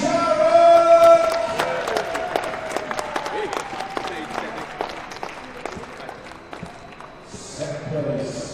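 A crowd at a BMX nationals podium ceremony in Manchester claps and cheers in a steady patter, heard close beneath an announcer's voice.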